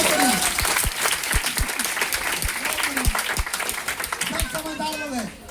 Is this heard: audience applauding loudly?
yes